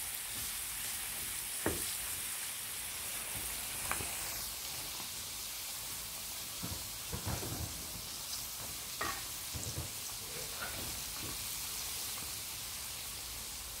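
Crispy pork belly fries in oil on a wood-fired stove with a steady dense sizzle throughout, broken by scattered pops and crackles, alone and without talk.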